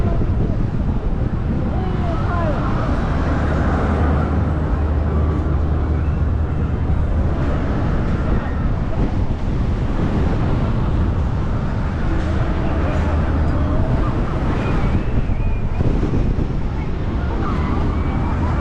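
Strong wind roars and buffets the microphone in a constant, loud rush high up on the Aeronaut Starflyer ride at Hyde Park Winter Wonderland, with faint voices now and then underneath.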